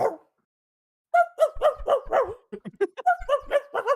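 A person imitates a dog barking in the voice of a cartoon dog, a run of short, rhythmic bark-like yelps after a brief pause, close and fairly loud.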